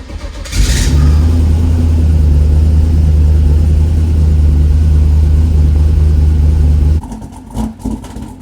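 A twin-turbo 4.8 V8 in a Fairmont, a high-mileage engine with around 220,000 miles, fires up and runs at a steady, loud, close idle for several seconds before cutting off, leaving a few faint clunks.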